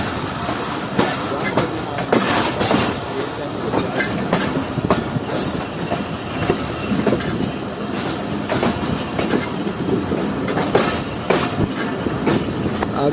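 The Jaffer Express rolls onto the loop line at Ghurila station, wheels clattering rhythmically over rail joints with sharp repeated clicks and occasional squeals, loud and close throughout.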